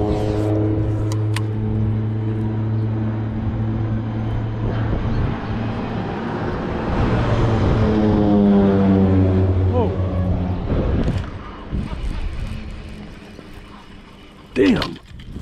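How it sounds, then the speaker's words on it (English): A low-flying airplane engine drones steadily overhead at a California Delta bass fishing spot, its pitch sweeping as it passes. It sits beside boat motor rumble, and people talk nearby. "What the hell is that plane doing?"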